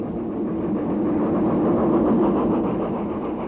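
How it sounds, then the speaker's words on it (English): A 2P steam locomotive climbs a railway bank with a gas wagon at the back of the train, giving a steady, close, heavy rumbling labour with no voices. "Another 2P climbs the bank, with a gas wagon at the back"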